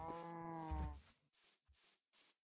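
A cow in the Minecraft video game moos in one long, close, clear call, followed by a few short, softer rustling sounds.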